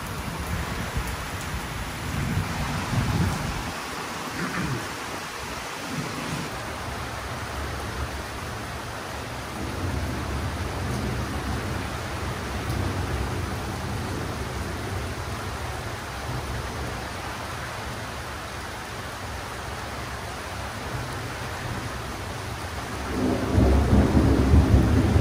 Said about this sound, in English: Don't mind me, just a thunderstorm.